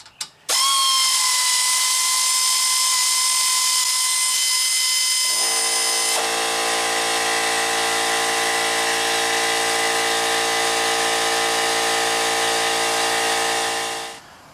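A power tool whirs steadily and loudly for about fourteen seconds as it undoes an 8mm screw on a rear brake caliper of a 2017 Ford Escape, its pitch shifting partway through before it winds down at the end.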